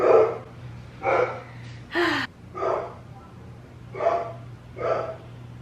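Dogs bark at the mailman at home, six separate loud barks spaced about a second apart over a low steady hum.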